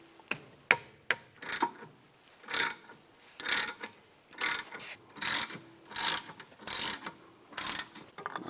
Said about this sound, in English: Take a 7 millimeter Allen socket. Loosen up the bolts for the caliper.